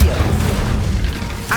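A fiery spell cast in Hogwarts Legacy bursts with a heavy booming whoosh that rumbles and fades over a second or so, with game sounds mixed in.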